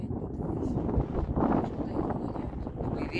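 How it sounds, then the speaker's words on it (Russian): Strong wind on an African safari buffeting the microphone in a continuous loud rushing roar with gusty swells, no other sounds standing out. "И ветер дикий."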